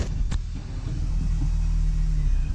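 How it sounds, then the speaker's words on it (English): A R53 Mini Cooper S engine hums with a low, steady rumble as the newly installed clutch engages, heard close and continuous after a brief knock at the start. "I think the clutch is engaging."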